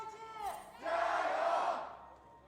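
An esports arena crowd at an LPL Spring Split League of Legends match between JD Gaming and Invictus Gaming gives a brief chant, then swells into a loud, sustained roar that fades away.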